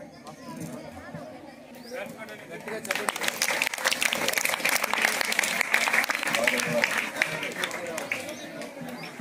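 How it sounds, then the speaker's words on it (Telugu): A school audience at an Independence Day celebration at a district parish high school breaks into dense, sustained clapping after a few seconds of a voice speaking over the crowd, and the clapping continues steadily to the end. "ఒకసారి గట్టిగా క్లాప్స్ కొట్టండి"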